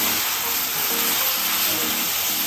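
Loud, continuous sizzling of vegetables frying with soy sauce in a pan for japchae, dense crackling hiss up close, with faint stirring movements underneath and no voices.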